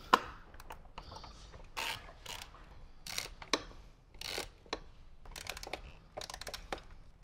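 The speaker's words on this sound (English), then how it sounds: "You can use an open-ended wrench or a ratcheting wrench" Ratcheting wrench with a 7/16 socket tightening six bolts while fitting audio gear to a 2014-or-later Harley-Davidson: quiet bursts of rapid clicking ratchet strokes, irregular and close, separated by brief pauses.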